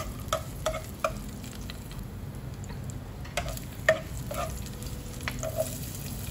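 Garlic sizzles steadily in hot oil in a casserole pot, with a few scattered ticks and scrapes of stirring breaking through the continuous frying hiss.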